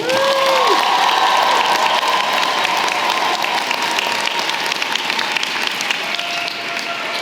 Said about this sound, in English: So one last, biggest round of applause for all of them.